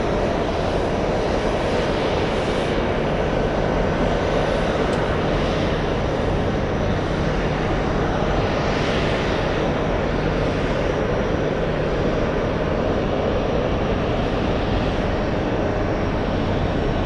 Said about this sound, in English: There it is, the 777 in the distance.